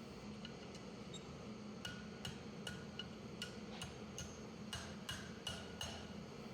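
Sharp metallic hammer strikes ring out at a steady, unhurried pace, about a dozen blows forging a steel S-hook on an anvil horn, over low workshop rumble.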